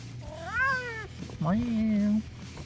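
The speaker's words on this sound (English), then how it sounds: "This is my cat that likes to meow a lot, Mavis" A house cat meows loudly twice, first a rising-and-falling call and then a longer sustained wail, close to the microphone indoors with no talking.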